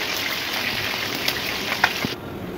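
Chicken pieces frying in hot oil, cooked in batches of three for a Bengali chicken roast, give a steady, close bubbling hiss with a few brief crackles and pops.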